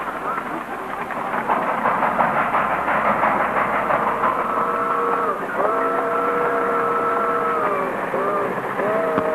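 A train rumbles steadily in a vintage radio comedy scene set at a station, with hissing steam and sustained whistle-like tones rising over the last few seconds.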